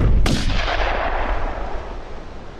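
A single loud gunshot from a turkey hunt in the Hunting Simulator video game cracks sharply near the start, then a long rumbling echo fades slowly over the next two seconds, with no voices.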